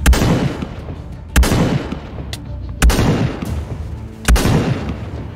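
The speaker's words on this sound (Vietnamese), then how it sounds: "Đầu tiên mình sẽ làm yếu nó bằng súng bắn tỉa." Sniper rifle shots in Minecraft ring out four times at roughly one-and-a-half-second intervals, each a loud, sharp crack followed by a rumbling decay, over a low game background.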